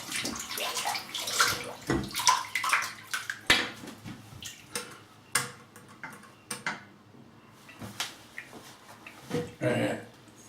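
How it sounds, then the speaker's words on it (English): Tap water runs into a bathroom sink to soak a 28mm synthetic shaving brush, an uneven trickle with splashes and clicks that rises and falls over about ten seconds, close by and fairly quiet. "And we'll just get some water in the sink to give that a soak."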